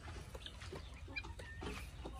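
Backyard poultry, guinea fowl and laying hens, clucking in a small garden yard; a steady mix of soft, close clucks and brief calls runs throughout, with no talking.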